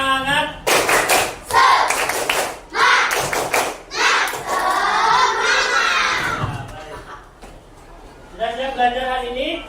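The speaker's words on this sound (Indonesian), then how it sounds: "kita tepuk semangat dulu bareng-bareng" A classroom of students and their teacher perform a rhythmic group clapping chant, sharp claps in patterned bursts mixed with children's voices chanting together, loud and close, ending in a final clapping flourish.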